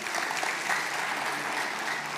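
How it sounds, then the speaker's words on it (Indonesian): Dense applause from a church congregation during a sermon, steady and sustained with no breaks, filling the whole stretch. "Kasih tepuk tangan bagi Tuhan kita."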